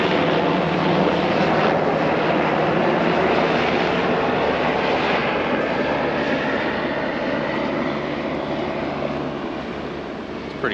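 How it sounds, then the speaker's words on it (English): A steady, loud helicopter engine roar holds throughout, broad and droning, fading slightly toward the end as it passes overhead. "We got a nice big helicopter coming behind us."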